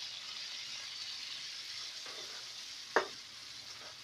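Ground tomato stirred into spices frying in oil for chola gives a soft, even sizzle. One sharp clank of a utensil cuts through near the end.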